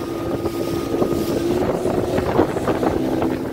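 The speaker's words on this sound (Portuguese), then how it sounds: "Agora sente só, sente só o roncado do motor" A 30 hp outboard motor on a boat roars steadily on a lake, loud and close, with wind buffeting the microphone.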